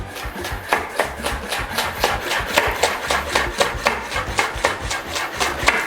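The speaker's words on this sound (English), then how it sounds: "let's go to chop the onion, the spring onion and the normal onion" A knife chops spring onion and onion on a wooden board in a quick, steady rhythm of sharp, close taps, several per second, with no talking.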